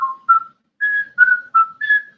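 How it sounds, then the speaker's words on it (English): Someone whistles the Mayberry theme tune, a clear, close melody of six short pure notes with brief gaps, alone without talk. "I'll just whistle Mayberry as I'm doing all this stuff."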